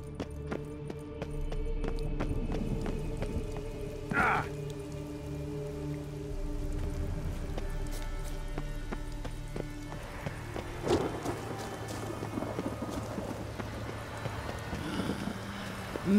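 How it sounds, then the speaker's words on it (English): Rain falls steadily in The Witcher 3, with a soft patter on surfaces, a few low distant rumbles of thunder and occasional louder knocks and crackles, moderately quiet throughout with no talk. "Thunder!"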